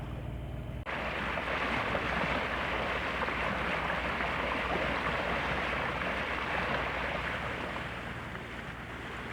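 A sailing boat motors across a calm sea near the Shiant Islands with no wind, a loud steady engine drone mixed with rushing water along the hull, continuous after an abrupt start, no voices.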